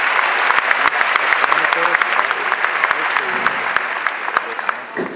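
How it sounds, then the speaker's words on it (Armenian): Sustained, dense applause from parents in the audience filling a hall at a dance academy recital, loud and steady with sharp claps throughout, tapering slightly at the end. "Ծափարեք ինքներդ ձեզ"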